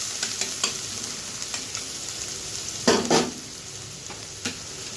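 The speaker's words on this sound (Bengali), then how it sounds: "তেলটা গরম হয়ে গেছে, দিয়ে দেবো পেঁয়াজ কুচি।" Chopped onion sizzles steadily in hot oil while a spoon scrapes and stirs it, with a few louder clinks and stirring bursts standing out from the constant frying hiss.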